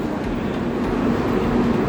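A passenger train idles at a station platform on a Guwahati to Delhi route, giving off a steady, loud low rumble with a faint tonal hum and no voices.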